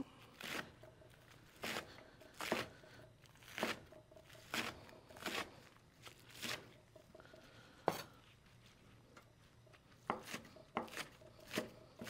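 A knife slices bunched green onions on the bias against a cutting board, giving a series of sharp, irregular chops, some in quick pairs, close and fairly faint, with no talking.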